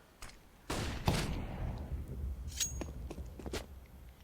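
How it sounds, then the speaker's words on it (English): Gunfire and a flashbang from a professional CS:GO match on the Mirage map: sharp shots and bursts ring out in quick succession, with faint footsteps and game ambience between them. "That flash bang blinding both the players in middle, and then getting Cirque to fire off the op"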